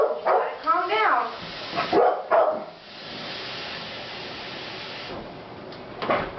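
An excited dog barks and yips in quick bursts while waiting to be fed at home, with a short whine. Then comes a quieter stretch of rustling as the food is mixed, and a last bark near the end.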